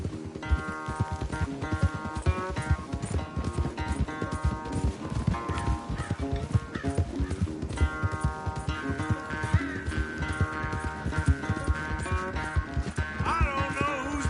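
Horses gallop in a race, their rhythmic hoofbeats running steadily beneath loud, continuous music.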